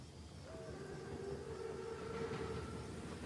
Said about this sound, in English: Train's right on time. Biggest train I've ever seen.